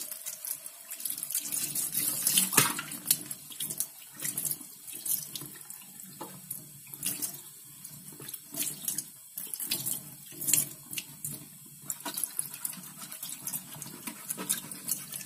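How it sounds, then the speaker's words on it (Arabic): Tap water pours onto a tray in a kitchen sink, a continuous splashing stream with shifting gurgles and spatters, close and fairly loud throughout. "دلوقتي هشغل الميه قدامكم عشان تشوفوا اذا كانت هتفك ولا لا"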